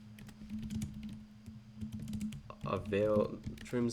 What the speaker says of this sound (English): I know I type like an old guy.